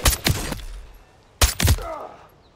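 Two close, loud bursts of rapid gunfire in Call of Duty MW3, each a few sharp shots, with a short quiet gap between them and a faint tail after the second.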